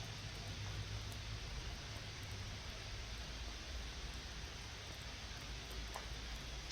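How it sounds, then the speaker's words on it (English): Soft, steady rain falls in a jungle in the video game Green Hell, a faint, even hiss throughout with a brief click at the very end. "it's raining again"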